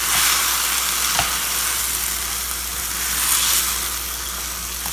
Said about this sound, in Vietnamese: Cho vào xào luôn.